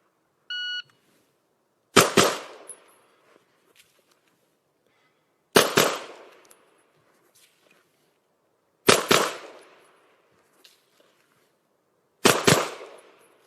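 A shot timer's short electronic beep opens a USPSA-style shooting drill, followed by four loud, sharp gunshots spaced about three to four seconds apart, each with a brief ringing decay and no talk.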